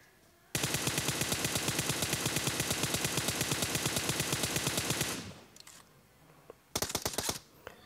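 Sustained automatic gunfire from PUBG Mobile, a rapid, even stream of loud shots for several seconds, then a pause and a second short burst.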